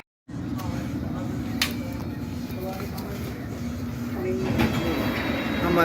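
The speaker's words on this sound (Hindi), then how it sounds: "हमारा स्टेशन आ गया और आज की हमारी कहानी मुक गई। चोरलीवुड पहुंच गए। ये देखिए, बड़ी अच्छी ट्रेन थी ये।" Train ride pulling into Chorleywood station in the London area: a steady low rumble of rolling carriages fills the cabin, growing slightly louder toward the end, with faint voices and small clunks over it.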